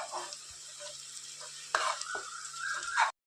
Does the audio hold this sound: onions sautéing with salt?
yes